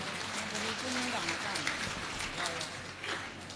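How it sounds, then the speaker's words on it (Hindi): A live audience in a spiritual discourse gathering breaks into steady, dense clapping on request, a continuous wash of applause lasting a few seconds with murmuring voices mixed in. "ताली बजाओ"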